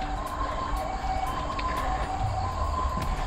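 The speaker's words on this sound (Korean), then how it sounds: "저런 사이렌 소리 들으면" A distant emergency siren wails steadily behind continuous outdoor traffic and street noise, heard near a crossing during a run through city streets.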